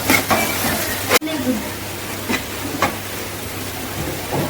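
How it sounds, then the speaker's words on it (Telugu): Onions frying in a pan for a goat meat curry give a steady, close sizzle with a few sharp clatters and stirring knocks, including one loud bump near the start. "ఉల్లిపాయ ఏగడం లేట్ అవుతుంది. ఎర్రగా ఏగాలి ఉల్లిపాయ అంతా."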